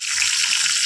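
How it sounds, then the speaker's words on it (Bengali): Slices of pointed gourd (potol) frying in a pan give a short, steady hiss of sizzling oil, bright and close, with no talking. "তো চলো পটলগুলো আগে ভেজে"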